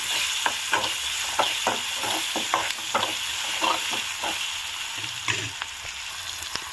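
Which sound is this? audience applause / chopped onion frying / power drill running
chopped onion frying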